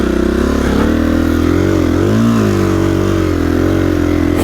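A KTM 350 EXC-F dirt bike engine labours up a desert hill near Ridgecrest, a loud, close, steady four-stroke chug with pitch dipping and rising as it strains under load.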